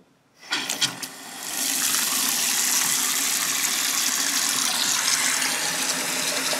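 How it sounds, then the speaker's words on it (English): Water runs steadily from a Delta two-handle bathroom faucet after a few knocks as the tap is opened, settling into a loud, even rushing flow for several seconds with no talking. "So we've got the water on."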